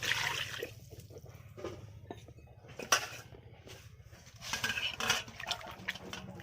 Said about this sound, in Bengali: এবার এটাকে পরিষ্কার করে আমি ধুয়ে নিচ্ছি।